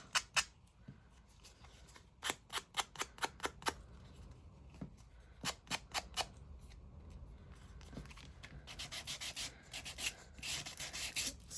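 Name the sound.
sanding the top edge of a craft card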